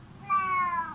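A cat gives a single short, clear meow close by, with a little background hum and no talking.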